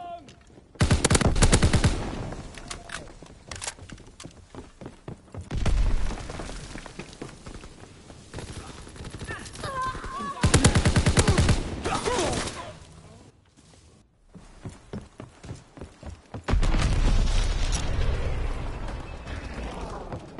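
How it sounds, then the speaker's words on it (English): Aircraft strafing run in Call of Duty WW2, with loud bursts of rapid automatic gunfire and rumbling impacts that come in several waves, mixed with game voices and background battle noise. "Strafing run inbound."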